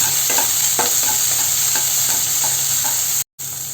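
Vegetables stir-frying with salt and pepper in a hot pan for chicken fried rice, a loud, close, continuous sizzle broken by rhythmic scraping stirs, with a brief dropout near the end.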